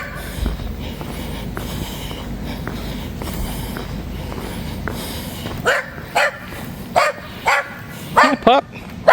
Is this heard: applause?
no